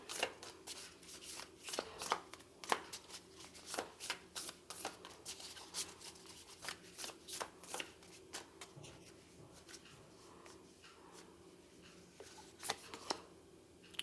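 Tarot cards being shuffled by hand at close range, a steady run of crisp riffling flicks and soft slaps that carries on throughout with no talk.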